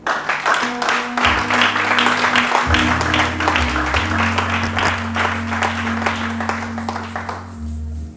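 A church congregation bursts into sustained applause during a sermon by Pastor Symphorien Mahoun, steady and loud for about eight seconds over held music tones, then fading out at the end.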